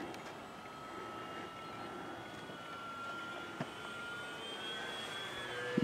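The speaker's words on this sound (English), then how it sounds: "I like that plane" An FMS Bearcat model airplane flying at an outdoor flightline on its maiden flight, a faint steady engine drone with a thin whine in the distance and no voices.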